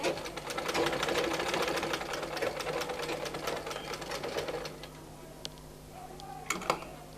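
A sewing machine stitches the seam of a pair of baby half pants with a rapid, steady, close ticking that runs for several seconds, then slows and fades into a few scattered clicks.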